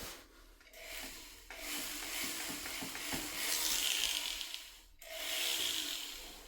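Harsh, continuous scraping and grinding of a carbide tool opening up a concrete floor, in several long strokes with brief pauses between them.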